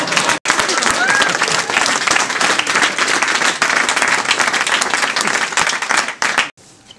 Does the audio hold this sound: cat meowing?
no